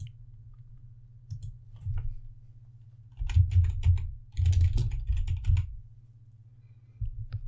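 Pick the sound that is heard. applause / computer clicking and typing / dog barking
computer clicking and typing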